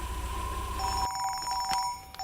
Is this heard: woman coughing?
no